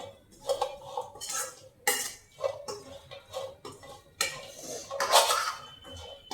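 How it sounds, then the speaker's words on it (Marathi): Metal utensil repeatedly scraping and clinking against a pan in irregular strokes while dry roasting ingredients, close by, with a faint sizzle between the stirs. "याच पद्धतीने मी बाकीचे उरलेले सगळे जिन्नस भाजून घेते"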